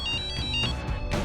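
A telephone rings in a Crime Patrol crime drama scene, a repeated electronic ringtone with bright pulsing tones, close and clear with no talk over it.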